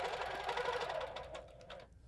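A sewing machine stitches a quilt guided by a circle quilting ruler, a fast, even run of close mechanical needle strokes that slows and stops near the end.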